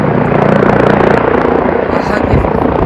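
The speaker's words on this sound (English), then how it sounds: "That's a rescue helicopter." Westpac rescue helicopter flying overhead at a beach, a loud steady rotor thrum with rhythmic chopping, close and sustained, with people talking beneath it.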